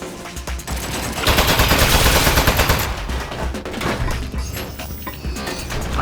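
Turret gunfire in the video game Aperture Desk Job: rapid bursts of shots with mechanical clatter, loudest in a sustained volley midway, over a busy game soundtrack.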